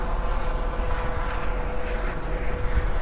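A helicopter drones steadily overhead at about 2,500 m altitude in the Romanian mountains near Busteni, a constant rotor rumble filling the air without pause.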